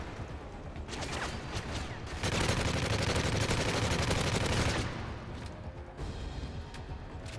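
Rapid automatic fire from a P90 in Modern Warfare 3 Survival mode: a dense, loud sustained burst of shots lasting several seconds, with shorter scattered shots before and after.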